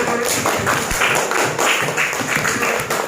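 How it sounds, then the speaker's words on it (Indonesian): Fifth-grade schoolchildren in a Quran lesson clapping for a classmate, a patterned rhythmic clap in quick regular bursts, close and fairly loud. "Tepuk tangan untuk Banisa."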